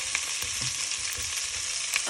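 Minced garlic fries in a pot for beef stew with a steady, close crackling sizzle. The garlic is stirred with faint scraping and clinking, and no one speaks.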